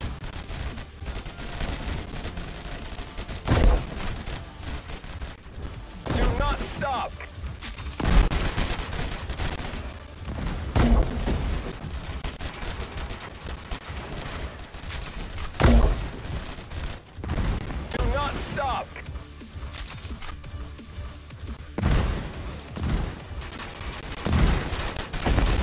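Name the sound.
gunfire in video game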